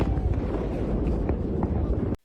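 A loud, continuous rumbling blast as a Russian fighter jet crashes into the ground, a dense roar sustained for about two seconds before cutting off abruptly.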